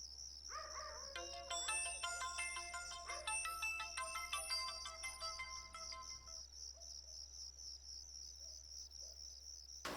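A phone ringtone plays a bright, rapid electronic melody of stacked chiming notes for about five seconds, then stops, leaving a steady high cricket-like chirring in a quiet room.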